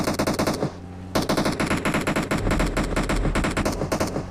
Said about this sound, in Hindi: यहाँ सामने पे फायरिंग हो रहा था